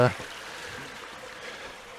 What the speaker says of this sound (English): this is the river that flows down through White Coppice